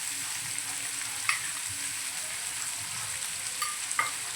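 Mandeli fish fries in oil on a medium gas flame with a steady, close hiss and sizzle, and a few sharp crackles and spits pop out of it.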